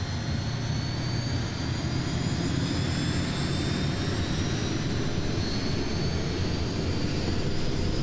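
A simulated Kodiak 100 turboprop engine spools up with a continuous roaring whine, and its high tones rise slowly as it builds speed, loud and steady with no voices over it.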